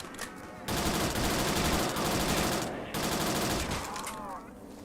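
An STG assault rifle in a Roblox first-person shooter fires two long, loud, continuous automatic bursts, separated by a brief pause, with a voice faintly audible around the shooting.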